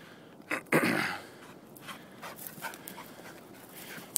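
A Weimaraner dog pants with a short burst of loud breathing near the start, then quieter rhythmic huffs continue softly close by.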